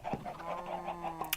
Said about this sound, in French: oui, on entend des poulets, c'est tout à fait normal.